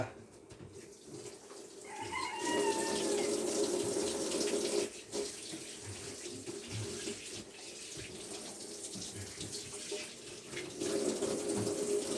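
Water runs steadily from a tap during cleaning work on a farm, a continuous splashing rush with brief pauses and faint background noises.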